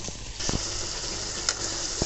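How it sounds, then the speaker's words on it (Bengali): Puti fish fry in hot oil with a steady, close sizzle, while a few sharp utensil clacks cut through the hiss. "পুঁটি মাছ ভেজে নিচ্ছি"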